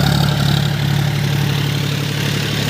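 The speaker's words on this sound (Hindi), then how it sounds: "उसी तरीके से ये ट्रैक्टर भी चल रही है।" A tractor runs steadily while pulling a brand-new maize sowing machine through a field, its engine a loud, constant, close drone with no pauses.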